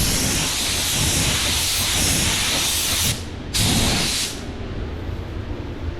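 A spray gun hisses in two steady bursts painting a small spot repair on a car panel, the first long and the second shorter after a brief pause, loud and close.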